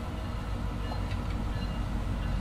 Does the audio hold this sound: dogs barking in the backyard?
no